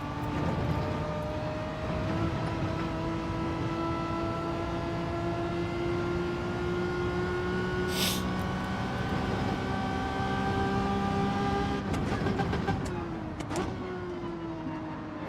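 A Renault Megane race car in Gran Turismo 7, its engine droning steadily at high revs with rising pitch through the gears, then a quick shift dip near the end. The tone stays loud and close throughout.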